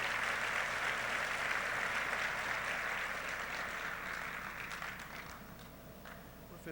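An audience gives a round of applause to welcome a speaker at a public talk, a fairly faint wash of clapping that slowly tapers off toward the end.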